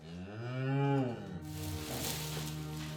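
A Charolais cow moos loudly and close by: one long, drawn-out low call that bends in pitch, followed by a steady lower lowing tone.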